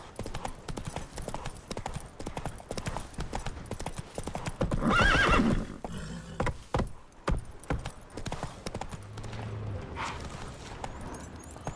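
Roach the horse gallops in The Witcher 3: Wild Hunt next-gen, with close, steady clip-clop hoofbeats, a loud neigh midway and jangling tack throughout.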